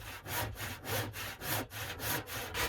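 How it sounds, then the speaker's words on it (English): Handsaw cutting through a bowed wooden tabletop, with steady back-and-forth strokes about every half second, each a rasping burst of close, moderately loud sawing, repeated evenly with no talking. "It seemed like a good idea at the time to use a handsaw on this table."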